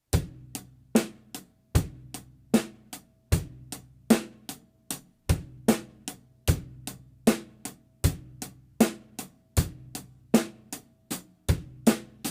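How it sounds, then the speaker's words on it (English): A drum kit plays a steady groove, with booming kick drum hits, crisp snare backbeats and ticking hi-hat strokes repeating in an even pattern. "bass drum and hi-hat, snare drum and hi-hat together"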